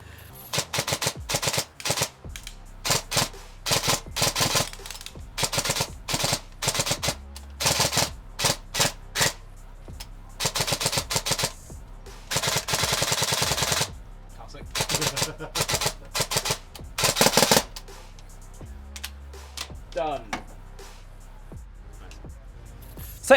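A Cyma MP5SD SD6 Blue Edition airsoft gun fires on an outdoor range in repeated short full-auto bursts, each a rapid mechanical rattle of clicks, separated by brief pauses and close to the microphone.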